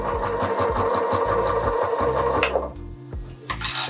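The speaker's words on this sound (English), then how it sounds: "Doing that back stitch." A sewing machine back-stitches the 1/4 inch seam of a zippered pouch, its needle hammering in a fast, regular mechanical rhythm close up before slowing and stopping near the end.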